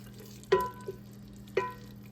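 A spoon clinks against a pot of baked ziti tomato sauce simmering on low heat, two sharp distinct knocks about a second apart with a softer tap between, over a low steady hum.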